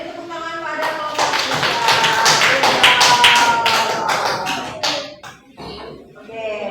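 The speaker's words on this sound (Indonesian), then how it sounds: "beri tepuk tangan pada kelompok" A classroom of students applauds a student group after its presentation: dense, close, steady clapping that carries for about five seconds, then thins out as a teacher's voice comes in.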